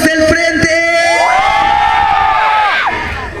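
At a rap concert in Mexico City's Chopo, a large crowd roars and whoops loudly and continuously, a dense swell of massed shouting that fades slightly at the end.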